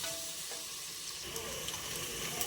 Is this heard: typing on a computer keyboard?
no